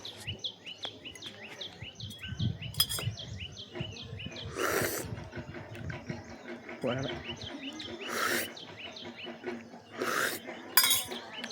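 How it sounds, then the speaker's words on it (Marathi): A metal spoon clinks repeatedly against a cup of tea in a few sharp, bright taps, close and fairly faint, with birds chirping in the background. "चमच्याने चहा घ्यायचा मला आता असा."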